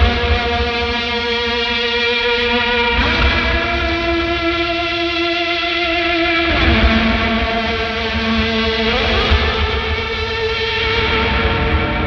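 Electric guitar playing high sustained notes through an octave fuzz pedal drenched in reverb, thick distorted and saturated tones with shimmering upper harmonics, notes shifting every few seconds, loud and unbroken with no talking.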